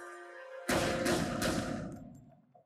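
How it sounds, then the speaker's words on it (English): A single loud gunshot fired into a wall during a TV drama scene, a sharp broadband crack that rings and decays over about two seconds, following a quiet tonal background. "He shot the wall."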